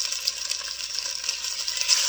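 Bright, continuous crackling sizzle of chicken skin frying skin side down in a hot pan, close and steady with small pops.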